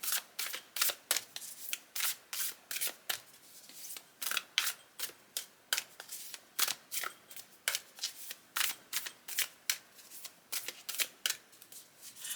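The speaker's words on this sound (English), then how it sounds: "so I'm just still shuffling" Cards are shuffled over and over in quick riffling bursts, a steady rhythm of crisp, papery flutters, close and fairly quiet.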